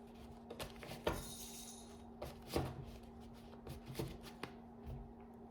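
A 32-card deck being shuffled, with several soft riffles and flicking card bursts spread across the stretch, close and fairly quiet, with no talking.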